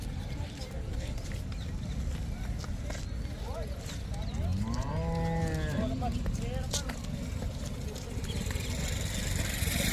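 Cattle at a livestock mandi in Amritsar low and moo once or twice, with harmonic calls rising midway, amid constant crowd chatter, hoof clatter and the steady din of the market.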